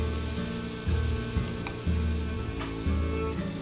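Ground roasted black masala paste with garlic fries in hot oil for a village-style matki bhaji, making a steady close sizzle with periodic stirring scrapes.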